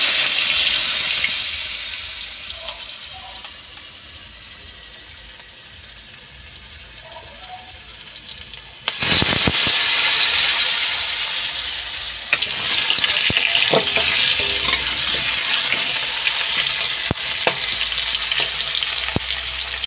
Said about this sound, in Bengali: তেল দিয়ে দিচ্ছি, আলুটা ভেজে নিচ্ছি।